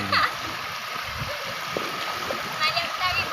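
Water splashing and sloshing underfoot while wading through floodwater after a night of heavy rain, steady close splashes in a constant watery wash, with faint voices in the background.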